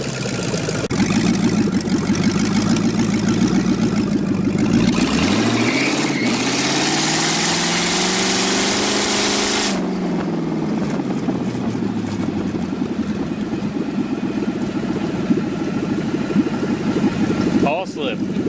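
LS V8 turbocharged engine in a Miata-based kart roars loudly and continuously, pitch sweeping up and falling back as it revs under load, with speech-like chatter mixed in.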